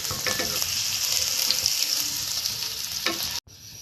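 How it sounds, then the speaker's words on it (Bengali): Ginger, green chilli and garlic sizzle loudly in a pan while being stirred and fried until reddish, with scraping stir strokes over the hiss before the sound cuts out abruptly near the end. "একটু লাল লাল করে ভাজবো।"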